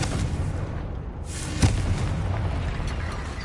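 A Confringo fire spell explodes in Hogwarts Legacy with a single sharp, loud blast at the midpoint, its low rumble trailing off over steady, dense game ambience.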